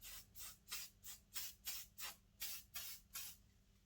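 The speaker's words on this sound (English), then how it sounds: "give the hair a little bit of a spray with some hairspray" Hairspray mists onto hair from an aerosol can in about ten short, evenly spaced bursts of hiss, each one close and crisp, with quiet pauses between them.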